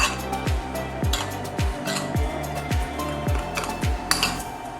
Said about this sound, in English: I'm going to give this a nice little stir.